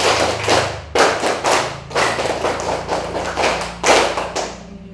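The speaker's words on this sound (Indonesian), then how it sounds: "Tepuk pramuka tambah 1 kali." Close, punchy group clapping: a class beats out the scout clap pattern, tepuk pramuka, with one extra clap, in rapid patterned bursts over about five seconds, and a faint hum sits underneath.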